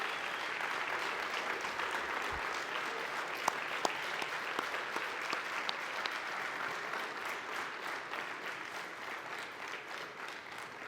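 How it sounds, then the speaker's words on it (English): A banquet audience applauds 2023 Hall of Fame inductees at a military academy homecoming, a long, even wash of clapping with a few sharper claps standing out, gradually easing toward the end. "One more time, please give our 2023 Hall of Fame inductees a big round of applause."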